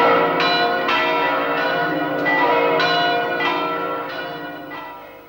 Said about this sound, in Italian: mentre le campane di tutte le chiese si scioglievano nella gloria della Pasqua